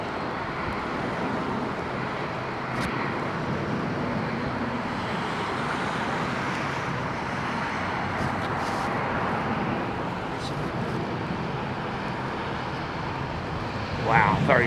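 A turboprop airliner at Heathrow Airport in wet weather gives a steady, loud engine roar that fills the whole stretch, with a brief louder burst near the end.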